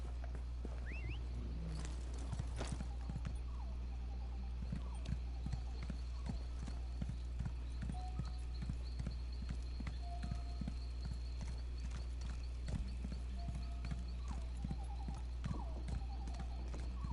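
Horse hooves clip-clop in a steady trot in The Elder Scrolls Online, with weighty, evenly spaced footfalls continuing throughout, faint birds and a low hum beneath.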